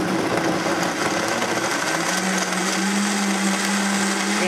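Blender mixing raw almond milk after the pulp is separated, a loud continuous high whir whose pitch settles steadily as it runs, close and unbroken.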